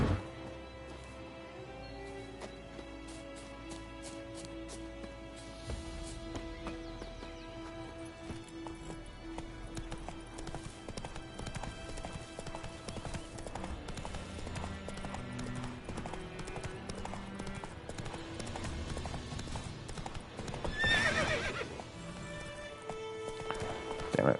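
Roach, a horse in the video game Witcher 3, gallops with rapid rhythmic hoofbeats that run for most of the stretch over a faint game backdrop, and a loud whinny sounds near the end.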